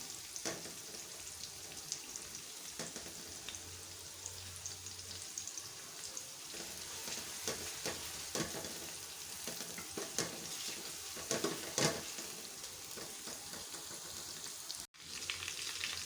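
Onions sizzle and crackle steadily in a hot pan, close by, with occasional stirring scrapes and louder pops over a constant frying hiss.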